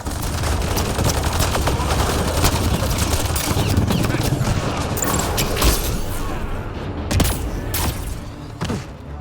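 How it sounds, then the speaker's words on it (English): Grenade blasts and gunfire in the Mass Effect Andromeda game erupt as a dense, continuous barrage of loud shots and booms, with heavy low rumble throughout and a few sharper bursts near the end. "Watch the grenade!"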